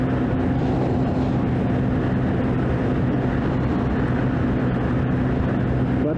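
A small motorcycle riding on the freeway, with constant loud wind buffeting and a steady engine hum that stays unbroken the whole time.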